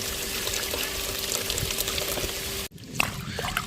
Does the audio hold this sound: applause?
no